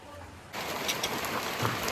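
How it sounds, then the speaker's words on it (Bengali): Rain suddenly starts and falls steadily, a dense wash of big drops with a few louder, heavier splats close by. "বৃষ্টি এসেছে, এই দেখ কত বড় বড় ফোঁটা পড়ছে।"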